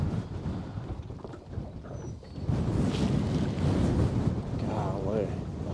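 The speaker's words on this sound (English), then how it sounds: "with this wind blowing sideways" Strong gusting wind buffets the microphone outdoors beside a tree while fishing, producing a continuous low rumbling roar that swells and grows louder partway through.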